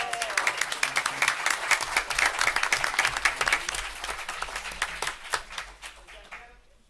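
An audience at a city council meeting in Florence gives a round of applause, dense steady clapping that tapers off at the end, with some voices mixed in.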